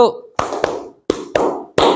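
A group plays an ice-breaking clap game, clapping together once on each cue: several sharp, loud single claps spaced apart, each separated by brief voices.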